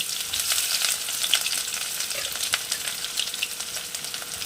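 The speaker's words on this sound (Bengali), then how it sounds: "এইবারে আমি 3টে মিডিয়াম সাইজের পেঁয়াজ কুচি নিয়ে রেখেছি, সেই 3টে ভেজে নেব।" Three medium onions, finely chopped, fry in a modest amount of oil for a Bengali prawn-paste and pointed gourd dish, giving a steady, close, bright sizzle and crackle with no voices.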